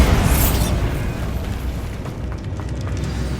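A Bombarda blasting spell from Hogwarts Legacy explodes with a loud, rumbling boom that rolls on as a dense, sustained roar for a few seconds, with no voices over it.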